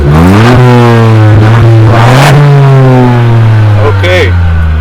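Loud, close revving of a Ford Fiesta ST engine in quick bursts, the pitch jumping up and dropping back a few times, ending in a steady rumbling idle.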